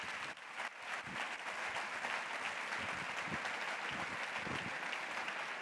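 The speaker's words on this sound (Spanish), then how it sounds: "Fuerte aplauso a Rosa Ruiz." An audience at an education congress applauds steadily, a soft, even patter of many hands that continues without a break, quiet and somewhat distant.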